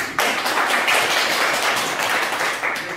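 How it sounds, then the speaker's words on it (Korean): A short burst of applause from a group, dense steady clapping that starts abruptly and holds at an even level, with no talking. "정말 다시 한번 경례의 박수"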